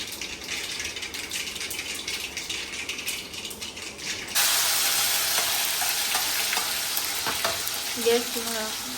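Food frying in hot oil, a steady sizzle that jumps louder and brighter partway through as more goes into the pan, with faint stirring and clinks near the end.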